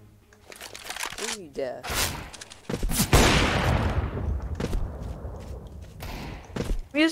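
Desert Eagle pistol fire rings out in a first-person shooter match. Several sharp, punchy shots mix with other gunfire and impacts, while players' voices chatter over the action.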